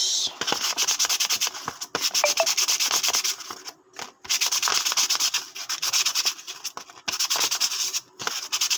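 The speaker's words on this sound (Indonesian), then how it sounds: "Ganti yang baru, kita amplas." Rhythmic rasping of sandpaper rubbed back and forth on a small fishing reel part, close and steady strokes with brief pauses between sets.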